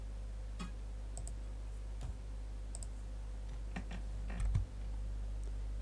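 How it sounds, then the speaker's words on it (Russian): Arrow keys on a computer keyboard are tapped during 3D modelling software work, a few sparse, quiet clicks scattered over a low steady hum, with no voices. "Стрелками на клавиатуре переносим."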